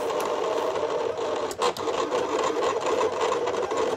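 A Silhouette Cameo 4 cutting machine sketching with a sketch pen makes a steady mechanical whir and hum, with a brief clack partway through. It sounds close and runs alone, with no talk.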